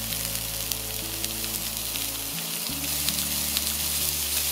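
German and Hungarian sausages sizzle steadily in an oiled frying pan, a continuous close crackle with a brief dip midway and no talking.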